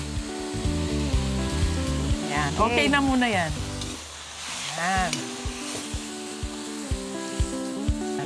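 Fish sauce (patis) sizzles steadily in a pot with pork spare ribs for pork tinola, a continuous close frying hiss with occasional stirring, while a person speaks briefly over it.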